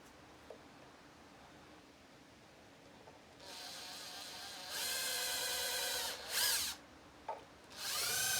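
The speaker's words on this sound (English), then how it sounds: "I kind of knew that I was going to need to drill this a little more" A power drill whirs up after a quiet stretch, boring into a wooden guitar neck in several loud bursts with brief pauses between, close by.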